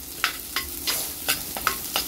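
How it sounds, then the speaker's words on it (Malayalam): Chopped ginger and garlic sizzle in a pan while being stirred, with about seven distinct scraping strokes spaced at a steady rhythm over a constant frying hiss, close up and with no voices. "പിന്നെ നന്നായിട്ടൊന്ന് ഇളക്കി കൊടുക്കാം."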